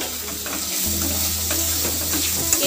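Chili powder, coriander powder and salt fry in oil for a fish curry, giving a close, continuous sizzle with stirring scrapes and soft bubbling throughout.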